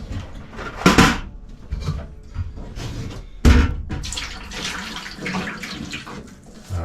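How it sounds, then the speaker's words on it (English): Fixer is poured over a wet plate photograph, giving irregular splashing and trickling liquid with a couple of sharper splashes and some handling knocks, close and moderately loud. "pour on our fixer."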